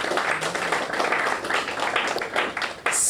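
Secondary school band and choir students at a music video launch give themselves a round of applause: dense, steady crowd clapping that fills the full three seconds at an even loudness, many hands blending into a continuous patter with no voices standing out.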